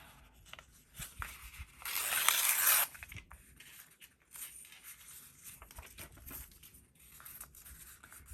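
Paper torn by hand for an altered composition-notebook reading journal: one loud rip near the middle, surrounded by quiet rustling and soft handling at close range, with no talking.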